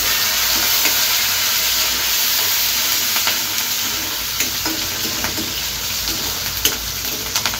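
Curry leaves drop into hot oil for tempering a pumpkin curry, after dried red chillies, and sizzle loudly and steadily up close, with faint crackles and pops and no talking.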